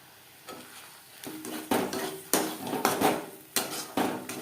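Green banana peel paste with chili cooked in a kadai, stirred in repeated scraping strokes roughly every half second, each with a short clatter and sizzle, close and fairly loud.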